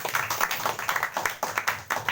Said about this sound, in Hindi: प्रभु का जोरदार ताली से धन्यवाद।